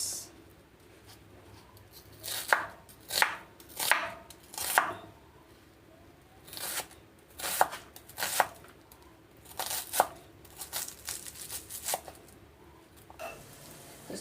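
An onion is chopped on a board for tuna carbonara, with close, crisp knife strikes landing in irregular bursts of several quick cuts separated by short pauses, and no one speaks.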